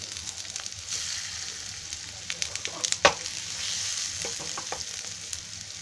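Cabbage patties frying in a pan make a steady, fairly loud sizzle throughout, with a few scraping stirs and a sharper clatter midway as the pieces are turned.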